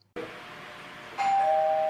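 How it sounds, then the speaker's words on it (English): A film's doorbell rings once with a two-tone chime in a near-silent room, clear and alone. "Until Rod rings the doorbell a second time in the next shot."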